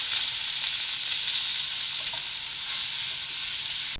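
Chili powder and salt are stirred into pumpkin pieces in a hot pan, giving a steady soft sizzle with faint scraping throughout.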